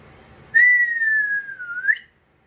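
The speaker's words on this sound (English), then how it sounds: "I have to whistle her home." A single long, clear whistle from a person, held steady on one pitch for about a second and a half with a slight dip and flick at the end, loud and close against silence.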